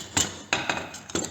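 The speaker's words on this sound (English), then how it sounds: "just try and hammer it down into there" Four sharp metallic taps with uneven spacing ring out close by as rear body trim on a Studebaker is hammered into a narrow gap.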